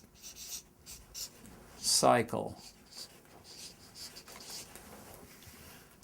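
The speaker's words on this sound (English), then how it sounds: "Let me write over that just one more time, make it a little easier for you to see." Writing strokes on a board during a lecture, with a short, loud, scratchy burst near the middle and softer rubbing around it, while someone speaks quietly.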